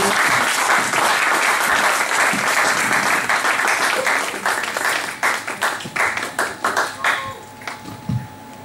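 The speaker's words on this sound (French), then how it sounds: "Est-ce qu'on peut acclamer très fort pour la gloire de Dieu?" Church congregation applauding loudly and steadily for several seconds, then thinning into scattered claps as the applause dies away.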